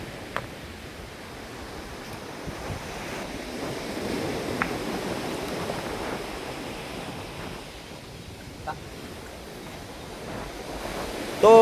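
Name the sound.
ocean waves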